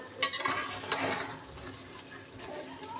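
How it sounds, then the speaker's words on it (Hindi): A spoon stirs carrot halwa with sugar in a pan over high heat, giving soft scraping and wet bubbling with a couple of sharper clinks, fairly quiet and close. "और बस चम्मच चलाते रहना है"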